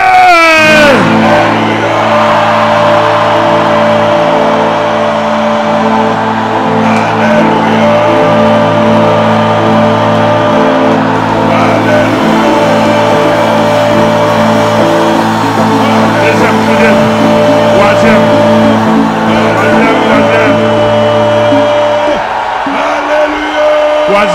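Congregation shouting together in loud, sustained prayer at a Haitian deliverance church service, a dense wall of massed voices with cries and whoops rising over a steady drone for the full length.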